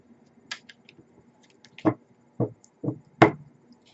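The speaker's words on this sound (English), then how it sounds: "I'm going to do it a few more times on camera for you." Tarot cards being shuffled and bridged on a table, a few sharp riffle and tap bursts spaced irregularly, close and clear with quiet pauses between, no voices.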